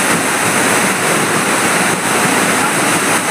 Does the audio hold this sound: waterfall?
yes